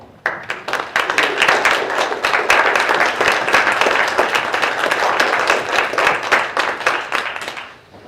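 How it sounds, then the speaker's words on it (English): Audience applause at a political event follows a Secretary of State candidate's closing remarks, a dense steady wash of clapping rising quickly, holding for several seconds, then fading out. "that was not a great enough applause"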